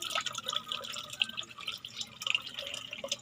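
A lobster tank's aerator and filter keep water running with a quiet, continuous trickle of drips, small splashes and bubbling, close and soft with no talking.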